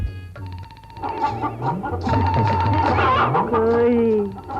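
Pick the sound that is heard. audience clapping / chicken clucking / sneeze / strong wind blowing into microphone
chicken clucking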